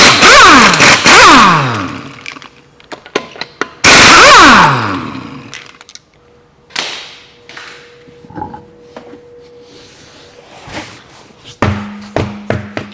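Wheels come off a Kia Sedona during engine removal: two loud bursts of a pneumatic impact wrench rattle against the lug nuts, followed by scattered metallic clanks, taps and handling noises in a workshop.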